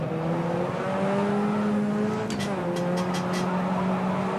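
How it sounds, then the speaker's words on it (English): Tyres screech on a Puma P052 race car in the rFactor 2 racing game at the Ibarra circuit, with the steady engine drone throughout and a brief series of squealing bursts near the end. "you're hearing the tyres screech"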